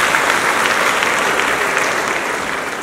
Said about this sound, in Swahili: naomba tupigie makofi mengi sana Baba Askofu